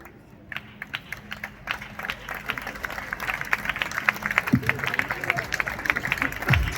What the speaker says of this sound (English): Both of them deserve a bigger round of applause, ladies and gentlemen.